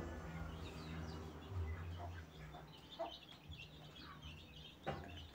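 Free-range village chickens in a coop, with brooding hens, give soft, scattered clucks that stay fairly faint throughout.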